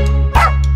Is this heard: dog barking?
yes